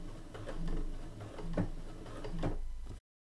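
A Brother Innovis 100 sewing machine stitches two layers of stretchy fabric, producing soft rhythmic mechanical ticking and whirring pulses, close and fairly quiet, for about three seconds.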